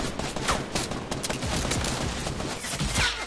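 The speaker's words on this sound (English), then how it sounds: "Whoa, getting sniped from behind." Bursts of sniper and other gunfire in the Fortnite video game, with several loud cracks and rattling shots overlapping in quick succession, with no voices.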